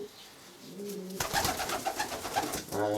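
A racing pigeon gives a close, clear coo, a few soft low notes followed by a burst of throaty rolling cooing that runs on to the end.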